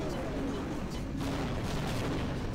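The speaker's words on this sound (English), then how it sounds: "There's a bomb in the place." Explosion in the Half-Life video game, a dense sustained roar of blasts and rumbling debris that fills the whole stretch at steady loudness.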